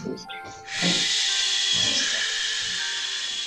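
A group of children imitates a snake's hiss during a speech-therapy storybook presentation at the National Library of Ukraine. A long, loud, steady hiss follows a few brief voiced sounds.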